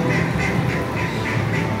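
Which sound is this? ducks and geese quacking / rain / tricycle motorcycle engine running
ducks and geese quacking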